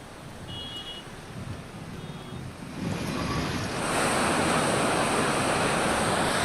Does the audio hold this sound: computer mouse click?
no